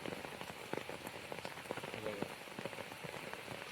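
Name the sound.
heavy rain falling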